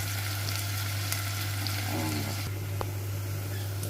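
Masala sautéing lightly in a pan before drumsticks go in, a continuous gentle sizzle with a steady low hum underneath and a brief stirring scrape midway.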